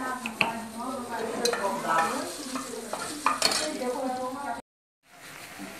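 Cooked rice is stirred and re-fried in a pan in a simple home kitchen, with a spoon scraping and clinking against the pan over a soft sizzle and a brief silent gap near the end.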